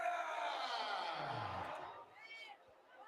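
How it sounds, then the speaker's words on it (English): Arena crowd at a UFC Fight Night in Austin reacting to a split decision, a broad sustained roar of booing and yelling filling the room, fading slightly toward the end. "Why is everybody booing?"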